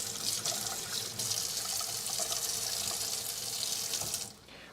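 Water runs steadily from a tap into a sink while something is washed, a close, continuous splashing rush that drops off sharply near the end.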